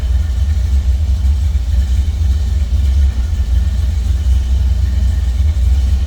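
1970 Chevrolet C10 pickup engine running at a steady idle, close and loud, a deep continuous rumble with slight unevenness and no other sounds over it.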